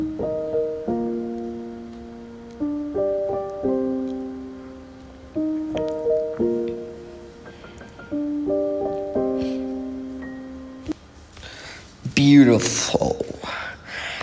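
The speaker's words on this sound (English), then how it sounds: "I just did the chords, but like with a little waltz thing and like a little pattern" Soft piano chords rolled in a gentle waltz pattern, a lilting three-beat figure repeating for several bars, close and clear, before a brief burst of unrelated noise near the end.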